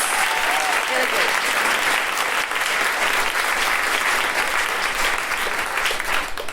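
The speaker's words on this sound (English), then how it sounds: "Can we give Deborah a round of applause?" A live comedy audience applauds Deborah, loud and sustained clapping from a packed room that swells at once and holds steady near the microphone before fading at the end.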